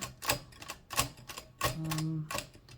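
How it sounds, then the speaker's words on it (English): A Mignon typewriter with a faulty backspace works its mechanism: a series of sharp mechanical clacks at uneven intervals, with a brief ringing hum midway, close and clear without talk. "I'm currently investigating an issue with the backspace on this Mignon typewriter"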